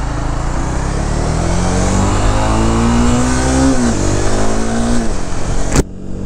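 A 2016 Honda CBR 300R motorcycle at full throttle, its engine revving loud and close with a rising whine that climbs through the gears, ending in a brief sharp knock.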